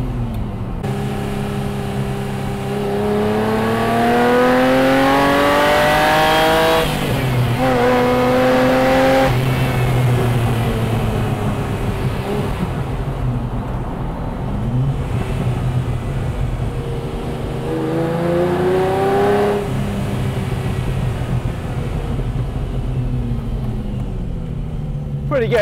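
A Ferrari Testarossa Spider flat-12 with a sports exhaust revs repeatedly, rising and falling in several loud, close sweeps over a continuous rumbling idle.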